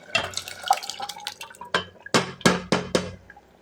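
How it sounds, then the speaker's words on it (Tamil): Cooked lentils (dal) pour and splash into a pot in several wet, sloshing bursts, ending with a few quick glugs close by. "இப்போ வந்து பருப்பு எடுத்து ஊற்றிக்கலாம்"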